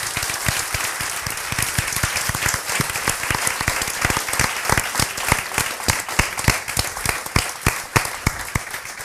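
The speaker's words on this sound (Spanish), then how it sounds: "un aplauso aquí para los panelistas" A roomful of people claps for the panelists after a discussion on formal versus informal learning. Dense, steady applause with crisp, loud individual claps runs throughout without letting up.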